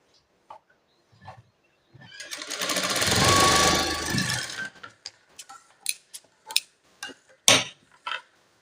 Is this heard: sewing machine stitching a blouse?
yes